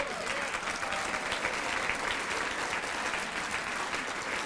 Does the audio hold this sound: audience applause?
yes